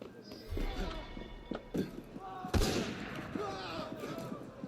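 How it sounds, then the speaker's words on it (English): A single sharp gunshot rings out mid-scene in Assassin's Creed Unity, set against a busy background of street bustle and footsteps, with voices murmuring around it. "Somebody done got shot."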